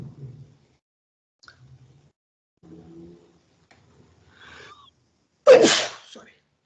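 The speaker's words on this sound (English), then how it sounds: "Sorry. Bless you." A single loud, sharp sneeze bursts out after scattered quiet speech and small background noises.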